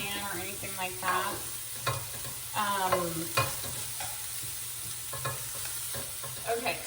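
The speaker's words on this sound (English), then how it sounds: "we got some pancetta going here. This just needs to cook for a bit." Pancetta cooking in a dry pan with no oil, giving a steady low sizzle with occasional scraping stirs, while voices talk over it at close range.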